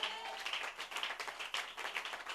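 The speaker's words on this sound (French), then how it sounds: "Donnez-lui une main d'acclamation." A church congregation claps hands together in sustained, dense applause, a crowd sound that swells and dips in loudness throughout.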